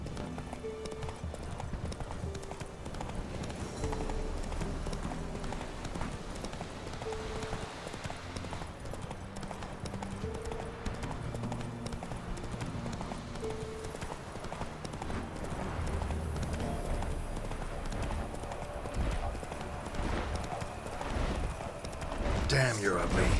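Horse hooves galloping in The Witcher 3: Wild Hunt, a quick, even drumming of hoofbeats that runs continuously and close, with game ambience and occasional creaks layered over it.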